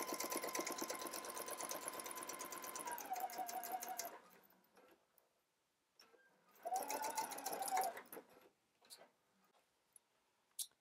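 A sewing machine bastes a dress skirt at a long stitch length, running in a rapid even clatter for about four seconds, pausing, then running again in a shorter burst before a few isolated clicks.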